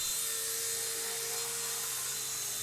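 An RC ERA C138 1/33 scale Bell 206 model helicopter flying indoors near a table, with a continuous high-pitched electric rotor whine and buzz holding steady and close throughout.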